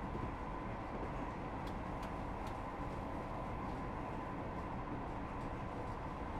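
A Voyager train rumbles steadily along in Train Simulator 2019 on the North Wales Coast Holyhead line, a continuous low running noise with a few faint clicks over the top.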